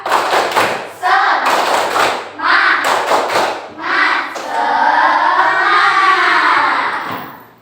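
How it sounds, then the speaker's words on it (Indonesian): A group of children in a classroom perform a rhythmic spirit clap, claps and thumps falling in patterns under loud chanting voices, with an adult's voice between rounds. "Tepuk semangat"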